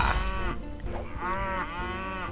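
Cartoonish cow moos in the shooter game Point Blank, tied to a cow-themed hammer weapon: a short low moo opens, then a longer, rising-and-falling moo follows, loud and close with no talk.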